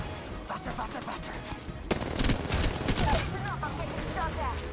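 Gunfire in the Apex Legends video game crackles in scattered bursts, with several sharp cracks and rapid volleys over a busy background of game noise and voices.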